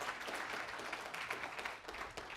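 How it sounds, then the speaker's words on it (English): Audience applause fills a room during a talk on primary teams: dense, continuous clapping from many people at a moderate level, tapering slightly toward the end. "Now give yourselves a round of applause"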